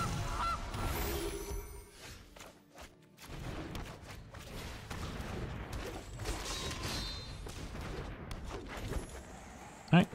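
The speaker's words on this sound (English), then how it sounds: "And plays a Gilded Goose." Goose honking from a Gilded Goose card being played in MTG Arena, a digital card game, heard amid busy game music and effects with a sharp burst right at the end.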